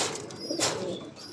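Pigeons coo softly and briefly at close range, a low murmuring call over a faint background hiss.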